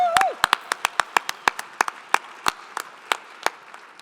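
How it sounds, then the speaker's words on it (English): A small audience at the Roots of Recovery event claps for the event team, with a few sparse, distinct, fairly close claps in loose rhythm and a brief voice at the start. "Please give a round of applause for our event team"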